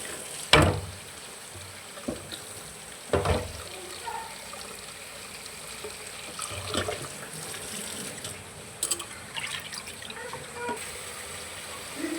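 Water runs and splashes in a home kitchen as something is rinsed to wash away white dust, with intermittent gushes, clatters and trickles up close. A voice briefly talks underneath.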